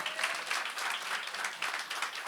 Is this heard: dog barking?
no